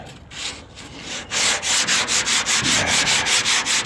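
Sandpaper rubs by hand over car body work in quick, rhythmic back-and-forth strokes, close and fairly loud, after a few softer, slower passes at the start.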